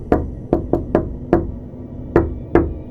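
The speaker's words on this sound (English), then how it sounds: "I would always hear a familiar knock every time I was asleep in bed that went sort of like this" Seven sharp knocks on a hard surface in an irregular rhythm, close and distinct, with no other sound around them.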